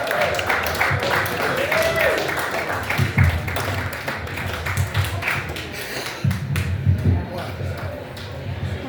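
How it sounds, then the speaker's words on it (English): An evening event audience gives a round of applause for Doug McDonald. Irregular claps and taps form a lively but uneven texture, with talking voices mixed in over the top. "Another round of applause for Doug."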